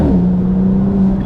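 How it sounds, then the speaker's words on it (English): A steady 2016 Mercedes C450 AMG engine drones inside the moving car, a constant low hum with a faint whine running through it, no voices. "I hope you guys can hear like the car sound too."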